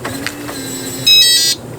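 An RVLOCK keyless entry door handle on an RV unlocks with a loud, short electronic beep and motor buzz lasting about half a second, following quieter faint tones.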